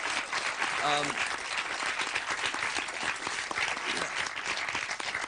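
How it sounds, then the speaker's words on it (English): Sustained applause from a crowd honouring young people at a public event, with someone speaking over the clapping throughout. "Give a round of applause to the young people who he's helping every day"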